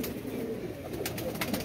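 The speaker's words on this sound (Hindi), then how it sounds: "ये है जी सलारे कबूतर की फीमेल जो है।" A female Salara pigeon coos in a low, soft murmur close by, held in the hand amid steady background noise, with a few faint higher chirps toward the end.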